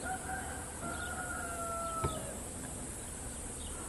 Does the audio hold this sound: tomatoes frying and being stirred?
no